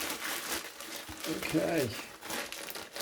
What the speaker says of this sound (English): So here it is in the bag, delivered by DPD. So let's just get this bag open.